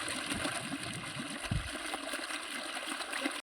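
Water from an irrigation motor pump runs into the first bed of a vegetable field, a steady close gush and gurgle with a louder splash midway, then cutting off abruptly.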